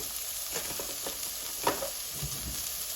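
Steak fries in butter in a hot pan with a soft continuous sizzle, plus a few scrapes and a brief clatter as the meat is handled up close.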